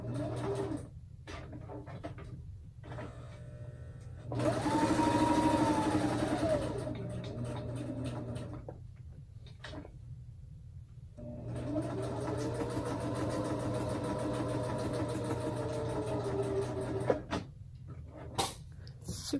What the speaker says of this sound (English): I'm gonna sew this real quick and then put it in there.